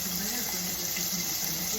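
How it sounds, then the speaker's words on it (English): Tap water runs steadily into a kitchen sink during hand washing while cooking fried cod, a continuous close hiss with no talk. "Keep washing my hands"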